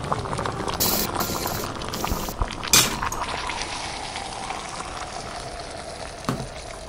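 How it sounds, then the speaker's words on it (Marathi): A pot of Colocasia (arbi) stem and chana dal vegetable curry boils steadily, with a continuous bubbling, simmering hiss close by and a few brief clinks partway through. "झाकण ठेवून 1 उकळी काढून घेऊ।"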